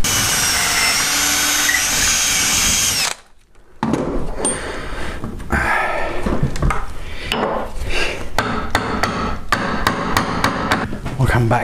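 Hammering a bolt into a wooden clapper stile gate: after a loud opening stretch and a brief pause, a run of sharp metallic strikes follows in an irregular rhythm, close and loud.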